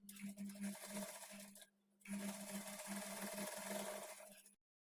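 A sewing machine runs steadily while stitching the shoulder joint of a blouse at a half-inch margin, a close, quiet mechanical hum with a strong buzzing tone, stopping briefly mid-way before running again.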